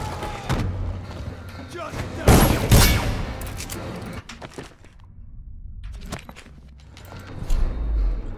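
Gunfire and heavy impacts in the video game Dishonored, a few loud bangs and thuds clustered near the start and middle with a burst of noise, mixed with game sounds and someone talking over it.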